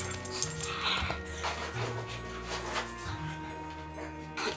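A pet dog whimpers softly and pants close by, with low steady tones droning underneath the whole time.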